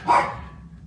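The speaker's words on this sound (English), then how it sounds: "my dog's barking on cue, like they always do." A single short dog bark sounds close to the microphone in a house, then quickly dies away.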